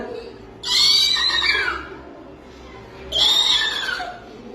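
A child imitates a horse neighing with two loud, shrill whinnies, each lasting over a second and separated by a short pause, sounding close and clear.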